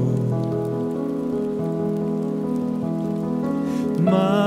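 Rain falls with a steady patter on surfaces, mixed under sustained guitar and blues music.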